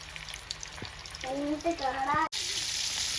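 Karimeen, pearl spot fish, frying in a pan, a steady crackling sizzle throughout, with voices talking over part of it and a brief break before the sizzle resumes.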